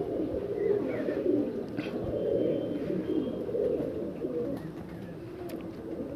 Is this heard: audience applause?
no